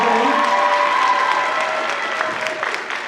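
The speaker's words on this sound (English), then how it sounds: "Can we get a round of applause for Neverson?" An audience applauds at a school Black History Month program, sustained clapping from a crowd that starts strong and tapers slightly toward the end.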